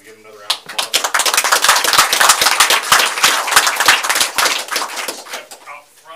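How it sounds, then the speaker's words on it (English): A round of applause at a city council meeting, sharp close individual claps building quickly into a dense loud burst, then thinning and fading toward the end, with a voice briefly audible. "We give him another round of applause"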